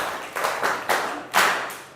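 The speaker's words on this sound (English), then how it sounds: "Can we clap for ourselves?" A small group of secondary school students claps for themselves, a few loose bursts of hand claps swelling and fading over two seconds, fairly close with no speech.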